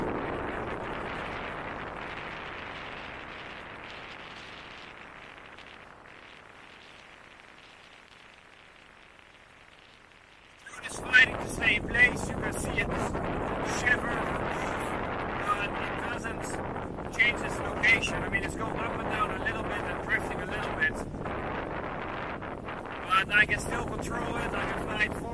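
Strong wind blows outdoors while a DJI Mavic Mini drone is flown, first as a fading rush and then as loud, gusty buffeting against the microphone with sharp bumps.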